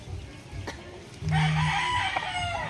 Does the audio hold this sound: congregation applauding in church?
no